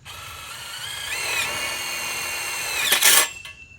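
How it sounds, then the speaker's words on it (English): A power drill drives a screw into the joint of a metal hoop for a DIY high tunnel kit, with a close, loud whine whose pitch rises as the motor spins up, then a sharp burst as the screw seats. "I put the screw in right about here from this joint"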